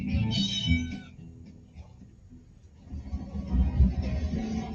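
A cat meows once, high and drawn out, then again more loudly near the end over a low rumbling background.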